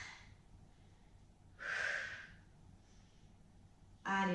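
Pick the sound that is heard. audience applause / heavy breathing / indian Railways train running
heavy breathing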